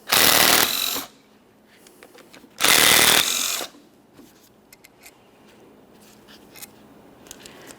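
Ratchet with a 13 mm socket working the caliper slider bolts on a 2004-2008 Ford F-150, heard as two loud, harsh bursts of about a second each, separated by quiet with faint clicks and taps.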